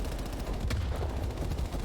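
Rapid automatic gunfire from Call of Duty Black Ops Cold War, a dense, loud burst of shots rattling continuously for about two seconds with no talk.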